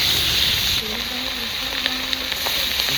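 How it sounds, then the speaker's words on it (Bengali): Fish frying in hot mustard oil, a close, continuous hiss of sizzling with small pops and a faint tonal hum, no talk over it. "তেলটা যতই ভালো করে গরম হবে না মাছ ততই ভালো ভাজা হয়"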